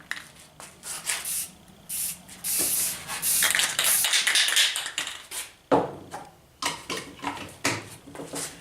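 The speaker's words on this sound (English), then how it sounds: "Just going to shoot it with our little primer from just a regular rattle can primer." A regular rattle can of primer sprays paint onto a homemade fender mount for a Sony Handycam, with close hissing bursts of varying length. Some are short puffs and one long continuous spray runs for nearly two seconds.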